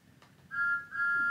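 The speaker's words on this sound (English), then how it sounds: "Regular Thomas whistle." Bachmann Thomas model train with a DCC sound decoder sounds its whistle, a short steady electronic tone in two bursts with a brief dip between, close and clear.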